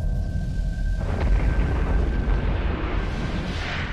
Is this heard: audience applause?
no